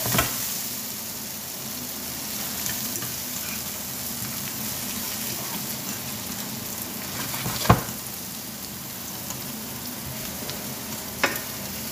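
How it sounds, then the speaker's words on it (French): Chicken, merguez and rice sauté in browned meat juices, a continuous close sizzle running throughout with a few sharp utensil clinks against the pan. "On va faire revenir également dans les sucres de viande."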